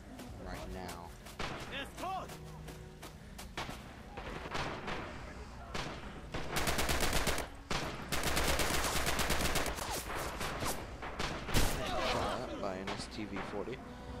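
Submachine gun fire in the Red Orchestra 2 Stalingrad battle game, dense bursts of rapid shots and battlefield crashes under someone talking throughout.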